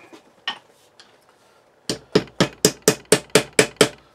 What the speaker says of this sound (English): What you're essentially doing is knocking through where the bits are left between the drills, between the holes.